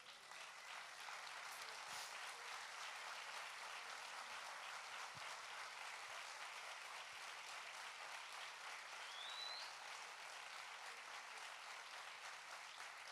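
Church congregation applauding, a faint but steady, even wash of many hands clapping that holds for over ten seconds without talk.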